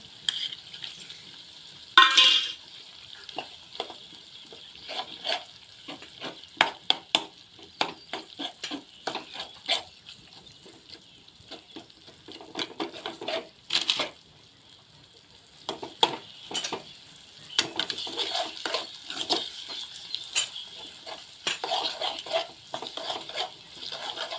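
Fish roe bhurji sizzles and crackles in a hot pan while a utensil scrapes and clinks against it in irregular stirring strokes, all fairly quiet and close, with no talking.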